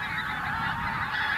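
Greylag-type geese honk steadily in a dense, continuous flock chorus over spring farm fields in Iceland, loud and unbroken throughout.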